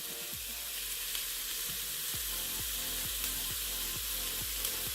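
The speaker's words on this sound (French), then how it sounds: "cela fait à peu près une dizaine de minutes que notre viande est en train de cuire avec nos légumes" Ground beef and vegetables simmering in a pan with vegetable stock, a steady close sizzle with repeated rhythmic scraping strokes of stirring, no voices.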